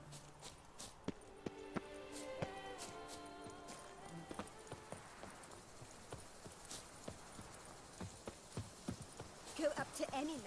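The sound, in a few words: horse galloping, from the video game The Witcher 3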